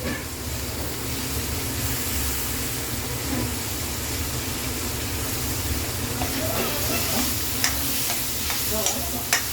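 Onion, green chili and tomato sautéing in a pan for fish kurma give off a steady, close sizzle and frying hiss, with occasional stirring clinks near the end.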